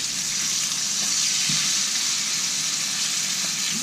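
Pieces of brook trout fry in a pan with a steady, loud, dense sizzle that runs unbroken throughout, with a faint tap or two of handling near the middle and no voices.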